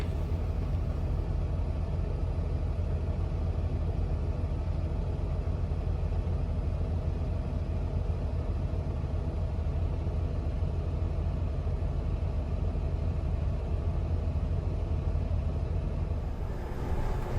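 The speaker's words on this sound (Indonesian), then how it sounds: "Mari kita perhatikan cara truk mundur dan masuk ke tempat parkir." A semi truck engine idles with a steady low rumble while the truck reverses into a parking spot in Texas, loud and unbroken throughout with no talking.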